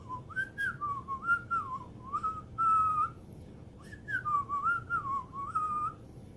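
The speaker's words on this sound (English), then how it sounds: "Now we can just kind of whistle the tune as we go." Someone whistles a melody in two lilting phrases with a brief pause between them, clear and close over a low background hum.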